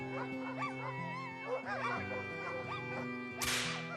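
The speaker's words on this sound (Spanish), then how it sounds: "Los látigos restallaron y se abatieron sobre los lomos de los perros." Whips crack sharply over sled dogs as they yelp and whimper. Dog voices rise and fall throughout, then a single loud whip crack snaps near the end.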